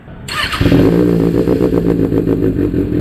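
A 2024 Kawasaki ZX-6R fitted with an AR Shorty aftermarket exhaust fires up close by. It settles into a loud, throbbing idle with rhythmic pulsing revs throughout.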